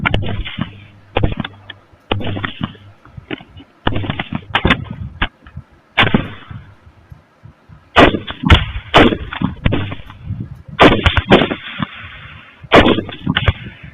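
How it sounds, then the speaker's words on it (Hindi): Artillery gunfire in a Pakistan-Afghanistan conflict, a series of sharp loud booms and bangs spread irregularly over fourteen seconds, each with a short rumbling tail. "इसी जगह फायर करो। गुड, एक फायर करो, फायर करो।"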